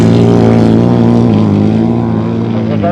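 1000cc grasstrack racing sidecars roar loudly and continuously through the pit bend, engines droning at a steady pitch that shifts slightly as they corner, with a commentator talking over the engine noise.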